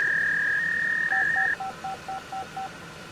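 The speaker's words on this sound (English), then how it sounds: "Now it says dialing." A fax machine dials out. A steady tone plays, then seven short, evenly spaced dialing beeps follow, loud and close.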